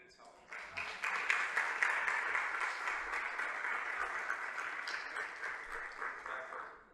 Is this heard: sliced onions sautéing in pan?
no